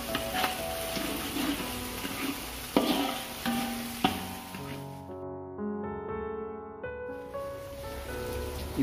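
Rebon shrimp being stirred and fried for sambal, a steady sizzle with scraping spatula strokes and a few sharper knocks, moderately close; partway through, a tonal musical sound comes in over the frying.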